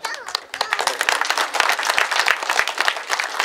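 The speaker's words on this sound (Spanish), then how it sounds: "les pido un fuerte aplauso" A crowd at a street inauguration ceremony in Ixmiquilpan, Hidalgo bursts into strong, dense applause, close and steady throughout, with voices mixed in.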